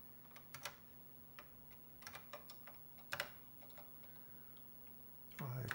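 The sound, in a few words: typing on Apple III computer keyboard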